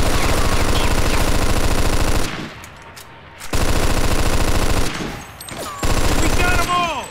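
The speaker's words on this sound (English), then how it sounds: "Stop shooting that fucking thing! I'm going deaf over here!" Rapid, loud machine-gun bursts from the Mafia 2 video game come in two long sustained volleys, with a quieter gap between them and a third burst near the end.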